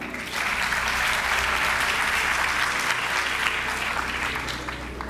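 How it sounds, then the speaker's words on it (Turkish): Audience at a talent show stage illusion act breaking into sustained applause, a thick, even wash of clapping that swells quickly and holds before easing off. "Arkadaşlar için bir alkış alalım."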